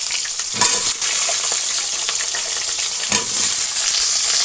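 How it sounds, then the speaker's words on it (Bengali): Potatoes fry in a wok over a wood fire in a village kitchen, giving a loud, continuous sizzle with a few sharp stirring scrapes. "কড়াইতে আলুটা আগে দিয়ে নিই।"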